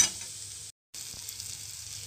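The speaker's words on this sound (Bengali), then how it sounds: "এবার এটাকে আমি খুব ভালো করে এখন ভাজা ভাজা করে নেব।" Beetroot chutney frying in a pan, a soft even hiss with low stirring rumble, briefly cutting out for a moment before resuming, close and quiet with no talking.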